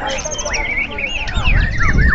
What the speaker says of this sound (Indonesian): Mereka membawa burung-burung